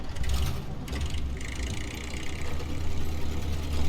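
Car engine running in a video game played in hard mode, a steady low rumbling drone with a continuous mechanical hum and some higher whirring layered on top throughout.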